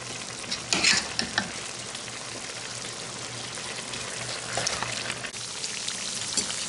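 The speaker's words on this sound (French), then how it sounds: "انا دابا درت اللوز ديالي تيتقلى" Almonds frying in a pan give a steady, close sizzle with brief bursts of stirring clatter and no talking.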